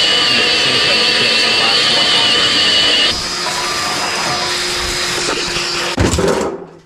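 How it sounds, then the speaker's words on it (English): A loud vacuum cleaner roars continuously as it sucks up drilling chips, its pitch shifting partway through, then a brief clatter before it winds down and cuts off. "I like to vacuum up the drilling chips"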